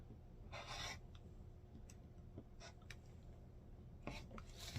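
Quilt blocks being trimmed with slotted trimmers, faint scraping and slicing strokes of a blade along a ruler slot, a few short rasps spread across a quiet background.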